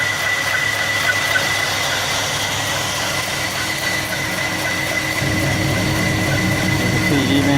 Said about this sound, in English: You can see even on that low of RPM, you got a steady idle.